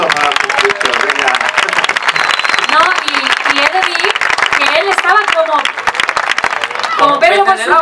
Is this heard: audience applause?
yes